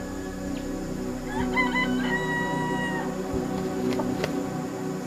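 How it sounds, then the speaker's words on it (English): Jungle fowl in Singapore crow once in a clear, stuttering call from moderate distance, with scattered clucks and faint bird chatter over a steady outdoor background hum. "Those birds over there, they're the jungle fowl. They're like chickens, but they are technically not chickens"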